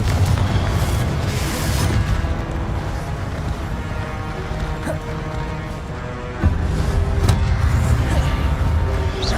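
In Hogwarts Legacy, Confringo spell blasts burst out as loud, deep booming explosions layered with rumbling game effects and dense low-end noise, one sharp impact landing late amid continuous combat sound.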